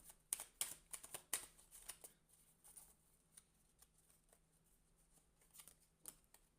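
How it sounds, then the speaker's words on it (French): A deck of intuition cards is shuffled by hand and cards are drawn, producing soft, close flicks and riffling patters in quick bursts, then sparser light slides and taps in a quiet room. "Et je vais prendre quelques cartes d'intuition."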